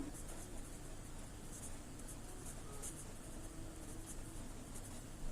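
A pen scratching steadily across paper while writing a journal entry's narration in an accounting lesson, continuous soft strokes close up over a low background hiss, with no talking.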